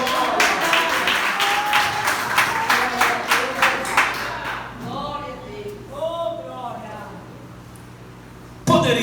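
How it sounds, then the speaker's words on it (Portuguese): A church congregation claps and applauds in a quick, steady rhythm for about five seconds under a preacher's voice, then the clapping fades as he speaks alone. "Você pode sentar aplaudindo a Jesus?"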